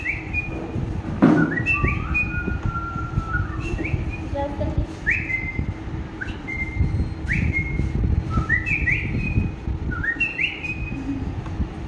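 A village boy whistles an imitation of a mobile phone ringtone: short, bright chirping notes repeated in quick phrases over a steady low background hum.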